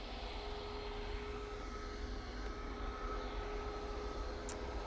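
An EasyJet airliner at Manchester Airport gives a steady broadband jet roar, continuous and moderately distant, with no talk.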